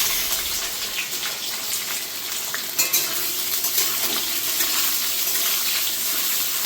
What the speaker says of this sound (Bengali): এবার পেঁয়াজটা একটু হালকা ভাজা হোক